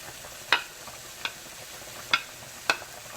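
Chopped onion, tomato and mushroom go into a pan for a chunky three-meat spaghetti sauce, giving four sharp, separate clatters or taps against a quiet, faint background, spaced irregularly about a second apart.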